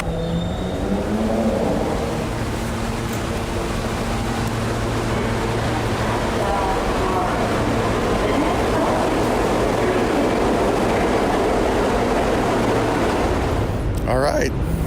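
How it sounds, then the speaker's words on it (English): A New York subway train rumbles loudly and steadily through the station, with a continuous low roar and rattling wheels that stop abruptly near the end. "I'm at the subway station."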